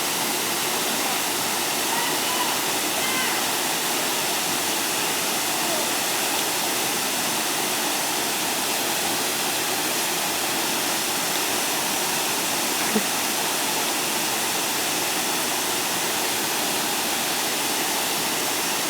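A waterfall at Cachoeira da Gruta in Delfinópolis, Serra da Canastra, roars as a steady, dense rush of falling water, continuous and loud for the whole stretch with no breaks.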